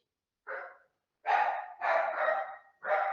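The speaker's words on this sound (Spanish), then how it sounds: "están ladrando los perros" Dogs bark in four separate bursts, the last three longer and louder, with brief silences between them and no talk.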